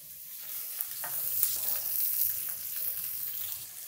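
Bone-in pork loin chop sizzling steadily in a hot pan, a continuous bright hiss with a few small pops and scrapes, close and fairly loud with no voices.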